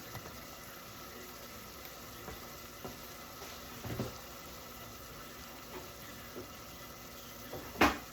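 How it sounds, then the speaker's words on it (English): Butter sizzling with meat in a pan for chili with smoked beef ribs, a faint, steady frying hiss punctuated by a few small clicks and one louder clatter near the end. "I'm going to add a tablespoon of butter."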